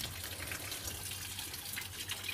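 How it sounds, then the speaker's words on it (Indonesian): Tap water runs through a hose to flush out a rusty car radiator, a steady, close, continuous rush of flowing water with no talking. "ini air sudah nyala kita masukkan lewat lubang atas ya"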